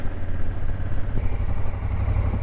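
Engine of a Honda Africa Twin adventure motorcycle on Dunlop Trailmax D610 tires, a steady, loud, close throbbing drone while riding on a road, with no voices.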